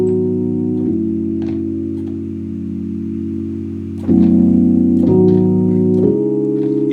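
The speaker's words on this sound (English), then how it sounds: "if you play the chords with the electric, it's going to sound like this" Simple sustained chords on an electric piano, changing a few times in a steady loop for a New Jack Swing style beat, played alone and fairly loud with no talk over them.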